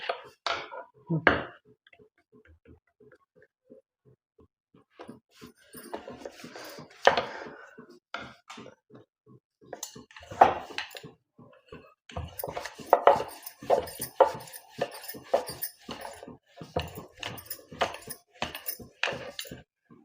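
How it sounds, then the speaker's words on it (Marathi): A rolling pin works chapati dough on a board, making irregular wooden knocks and rolling thuds in bursts separated by short pauses, close and fairly clear. "हे पहा आता आपण चपात्या लाटून घेऊया"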